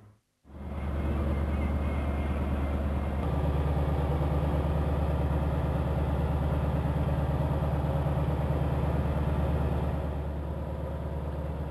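More than ten large fishing boats run their engines at sea in the Gulf of Thailand off Tha Sala, Nakhon Si Thammarat, making a loud, steady, unbroken low drone that fills nearly twelve seconds after a brief quiet start.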